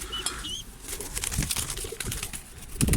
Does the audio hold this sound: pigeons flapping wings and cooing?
yes